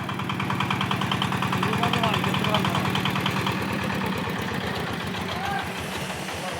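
A mini concrete lift machine's engine runs steadily nearby, a loud, continuous rumbling chug with a rapid knocking pulse that holds even throughout.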